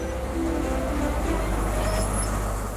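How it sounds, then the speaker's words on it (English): A high-speed train on the East Coast Main Line in Britain rumbles steadily, with a continuous low, loud drone of rolling stock and faint higher whines throughout. "Its high-speed trains start their journey in London and change drivers at Newcastle before heading north."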